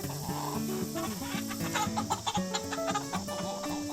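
A flock of 14-week-old chickens clucking continuously and fairly close inside a coop, overlapping calls and short squawks forming a busy, steady chatter with no talking.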